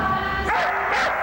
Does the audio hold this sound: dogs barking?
yes